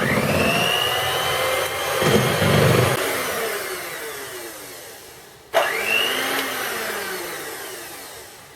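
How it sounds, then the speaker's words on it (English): An electric whisk whips trifle custard with a loud, steady motor whine that shifts pitch as it works, briefly cutting out and restarting partway through. "And whisk."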